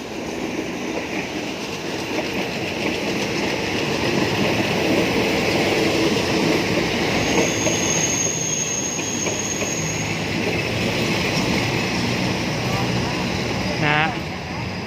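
Diesel train 313, hauled by locomotive D.4301 on the Bangkok–Ban Phachi run, rolls steadily past the Talat Mai Don Mueang halt with a continuous rumble and wheel noise, a brief squeal near the end, and people talking under it.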